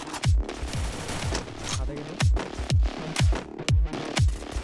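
Rapid bursts of gunfire ring out in a battle royale video game, loud and close, several volleys of automatic shots with brief gaps between them and no talking over them.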